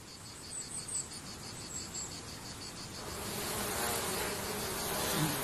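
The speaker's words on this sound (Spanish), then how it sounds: "Por eso aquí abundan las abejas y los insectos." Insects and bees on a small organic farm in Albania, giving a steady close buzzing and chirring drone that thickens and grows slightly louder toward the end, with no voices.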